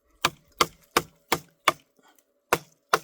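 A Work Tuff Gear Steadfast Large knife swung by hand chops into wood with seven sharp, loud thwacks at a steady pace, plus a couple of faint taps in the gap before the last two.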